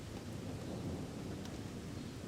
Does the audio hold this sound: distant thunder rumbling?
yes